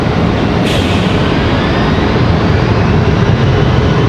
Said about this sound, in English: Your FedEx getting cleared to land.